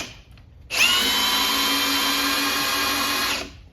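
A Ridgid power drill spins up and runs at steady high speed for about three seconds, its motor whine loud and close, then winds down as the anti-kickback clutch cuts it off in speed 1.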